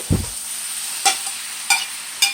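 Sugar snap peas and pork loin sizzle steadily in a hot pan while a utensil scrapes and tosses them in a few brisk, evenly spaced stirs.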